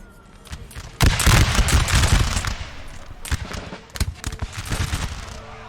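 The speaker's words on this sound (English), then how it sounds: "They are firing so fast. The UK are firing so fast." Musket volleys in Napoleonic Total War 3 during a 4v4 battle, sharp crackling bursts of massed fire, one long loud volley followed by a run of rapid overlapping shots, with no voices.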